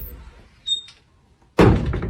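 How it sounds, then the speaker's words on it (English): A door takes a heavy, close knock or thump that lands once loudly and booms on, with a smaller knock or rattle earlier and brief faint tones before it. "Knock, knock."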